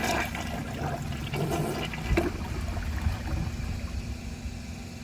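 Old chain-pull toilet in plumbing restoration flushing with a rushing, gurgling surge of water that churns steadily and then settles into a softer running trickle, close by with no talk.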